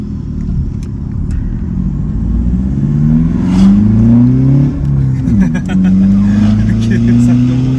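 BMW 650i accelerating with its exhaust valves open, the engine note rising steadily and pulling up through the revs, close and loud, with voices talking over it.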